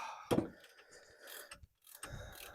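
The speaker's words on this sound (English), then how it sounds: "The snap-on ratchet has some teeth broke off in the little gear assembly, so every once in a while you'll hit that spot where the teeth are gone" A Snap-on ratchet with broken teeth in its gear assembly clicks through a few short, irregular bursts, close and fairly quiet, with a louder snap near the start and a brief gap of silence midway.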